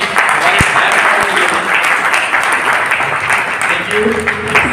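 An audience at a Safe Shop training session claps loudly and steadily, a dense burst of applause with a couple of sharp knocks near the start.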